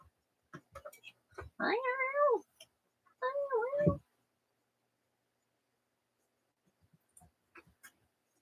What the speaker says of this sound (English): There's those cats again. You hear them?